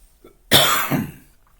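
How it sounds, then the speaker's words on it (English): One harsh, loud cough up close, trailing into a rough throaty rasp, with quiet before and after. "I'm sorry for coughing so much."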